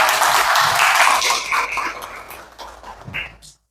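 Classroom of high-school students clapping for a classmate during a lesson, loud and busy applause that gradually thins out and fades over a few seconds.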